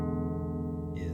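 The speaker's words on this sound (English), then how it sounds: "just clean tone straight into my" Clean electric guitar tone recorded straight into a DAW with no effects, a sustained chord ringing evenly before a fresh, brighter note enters near the end, close and dry.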